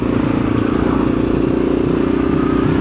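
A Yamaha XT600 dual-sport motorcycle idling, its single-cylinder engine giving a steady, raspy exhaust burble with an even rapid pulse, loud and close, with no one speaking.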